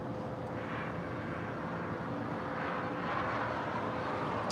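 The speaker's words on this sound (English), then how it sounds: "we do have a Northern Air Cargo 767-300ER, flight 8200 coming in from Seattle, about to fly over our head here at LAX" Northern Air Cargo Boeing 767-300ER freighter passing overhead on approach at LAX, a steady, loud broadband jet roar with a faint tonal whine that holds evenly and swells slightly near the end.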